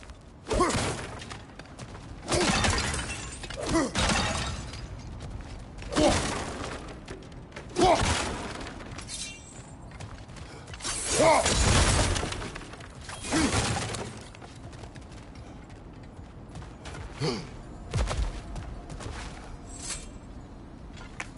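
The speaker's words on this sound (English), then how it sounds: "back to smashing through things for fun and profit" Objects shattering and breaking in a video game, a series of crashes and crunching impacts spaced irregularly every second or two, with mechanical rattles and thuds between them.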